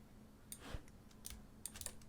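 Quiet, close-up typing on a computer keyboard: a short scatter of light key clicks in an uneven rhythm, with no talking.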